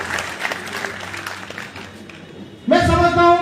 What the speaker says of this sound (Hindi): रविंद्र शर्मा जी तालियां बजा रहे हैं